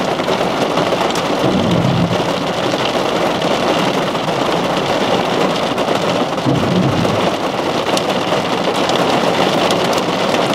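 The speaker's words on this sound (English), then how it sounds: "I think I hear hail. Yeah, that's hail. That's only pea-sized though." Pea-sized hail and heavy rain pelt down during a thunderstorm in Erie, Pennsylvania, a loud dense continuous patter with low rumbles of thunder rolling underneath, no voices.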